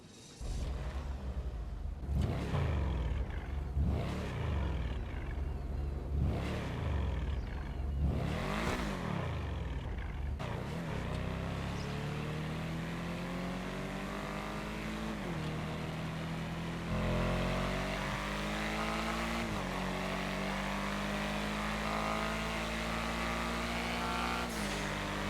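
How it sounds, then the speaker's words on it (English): Drafter car engine in GTA Online revving hard in several sharp blips, then settling into a sustained, rising roar as it climbs through gears, loud and alone. "But this car, when you rev it, it's got that roar to it,"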